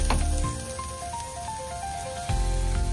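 Garlic stir-frying in a pan for vegetarian fried noodles, a steady close sizzle with a soft tonal hum underneath, briefly quieting mid-clip before surging louder again near the end; no talking.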